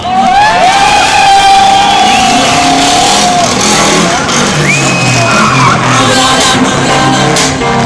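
Loud crowd of spectators cheering and shouting at a drift show, with high tire squeals from drifting cars cutting through the continuous roar across the clip.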